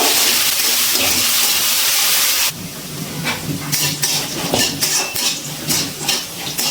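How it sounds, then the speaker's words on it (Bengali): Small cut potato pieces frying in hot oil, a steady sizzle with sharp clinks and scrapes of a utensil against the pan, louder at first and then broken into bursts of stirring. "একটা ছোট সাইজের আলু আমি ছোট করে কেটে নিয়েছি, সেটা তেলে ভেজে নিচ্ছি"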